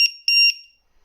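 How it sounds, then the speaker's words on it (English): A LiPo battery alarm lets out two sharp, high-pitched electronic beeps close by, a short chirp followed by a longer tone, then falls silent. "I advise everybody to pick up one of these, which is just a Lipo alarm"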